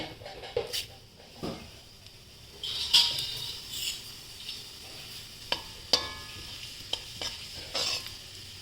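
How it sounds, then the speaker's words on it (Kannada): Mustard seeds and cumin crackle in hot oil for a bitter gourd stir-fry, a soft steady sizzle broken by sharp scattered pops and a few louder spits, close and alone with no voices. "ಎಣ್ಣೆ ಕಾಯಕ್ಕಿಟ್ಟಿದ್ದೀನಿ ಇದಕ್ಕೆ ಕಾಯಕ್ಕಿಟ್ಟಮೇಲೆ ಇದಕ್ಕೆ ನಾನು ಸಾಸಿವೆ ಹಾಕ್ತಾ ಇದ್ದೀನಿ ಸಾಸಿವೆ ಹಾಕ್ಬಿಟ್ಟು ಇದಕ್ಕೆ ಜೀರಿಗೆ ಕೂಡ ಹಾಕ್ತೀನಿ"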